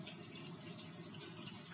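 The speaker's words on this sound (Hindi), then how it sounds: "और इसमें मैं डाल रही हूँ पानी" Water is poured into a large pan holding an upturned plate, ready for boiling to steam semolina discs, giving a steady, soft, continuous trickling stream close by with no talk.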